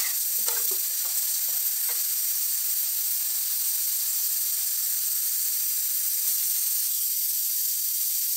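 Spice paste for khichuri with Gobindobhog rice sautéing in a pressure cooker, a steady broad sizzling hiss with a few faint clinks of stirring early on, close and continuous.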